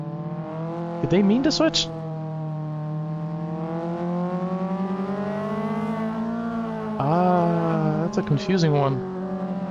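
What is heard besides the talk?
race cars on a touge run in video game Assetto Corsa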